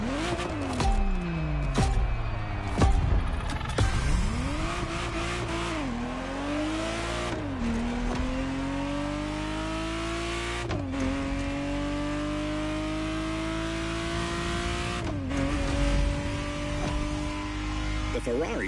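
Ferrari Testarossa engine revving hard through repeated rising pulls, each climb in pitch cut off by a gear change. The sound is loud and continuous.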